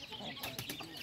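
Chickens cluck and squawk around a farmyard where they are feeding, a few short bursts over steady outdoor background noise, fairly close but not loud.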